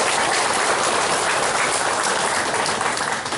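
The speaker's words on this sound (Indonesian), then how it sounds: "Tepuk tangan dulu buat panitia kita hari ini." Dense, loud crowd applause at an Islamic religious gathering in Purbahayu, Pangandaran, many hands clapping continuously and evenly throughout without pause or voices on top.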